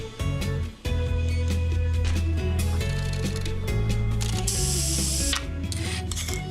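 In the video game Two Point Hospital, a patient's head is unscrewed by a clinic machine: loud, continuous whirring and ratcheting mechanical clatter with a hissing spray burst near the end, all over background music.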